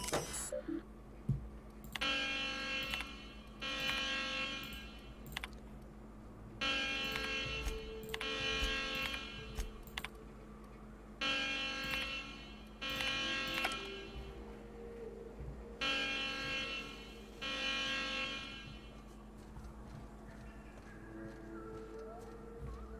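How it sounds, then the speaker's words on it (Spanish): In The Outer Worlds, an alarm sounds in repeated buzzing bursts of a few seconds each, separated by short gaps, over a steady background hum, fairly quiet and alone without talk. "Qué gilipollas soy, he puesto la alarma"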